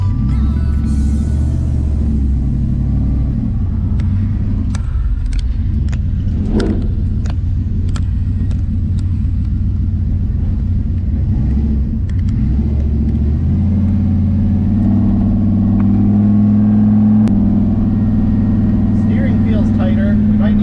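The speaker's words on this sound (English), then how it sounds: "Reverse seems to be working well." Engine of a 6.0 CUCV military truck idling and running steadily while reversing, a loud continuous low rumble with a slight rise in pitch toward the end, recorded close up.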